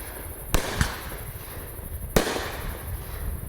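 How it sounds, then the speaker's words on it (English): Outdoor aerial shots from a Bright Star Wolf Warrior fireworks cake give three sharp bangs, two close together then one more, each trailing into a crackling hiss. "Wolf Warrior Bright Star Fireworks."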